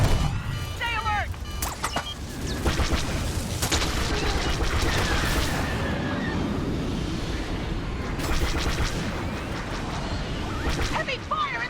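Heavy blaster fire from a Star Wars Battlefront Galactic Assault battle at Mos Eisley on Tatooine, with dense overlapping bursts, booms and whooshes that run continuously at a loud, busy level, and a voice speaks over the combat.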